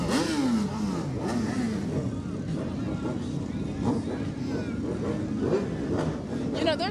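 Motorcycles from local clubs rev their engines at a St Patrick's Day parade. The engines rise and fall in loud, repeated swells, with crowd noise and voices mixed underneath throughout.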